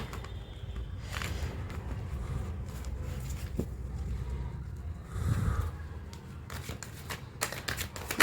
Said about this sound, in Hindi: मैं लाइव शफल करूँगी आपके सामने.